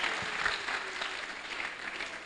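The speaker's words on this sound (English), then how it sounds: "Oh, please clap for her, okay?" Dense, even applause from a seated audience at an ISOC Ghana Chapter event, a continuous wash of many hands clapping at moderate distance and steady level throughout, with no voices standing out.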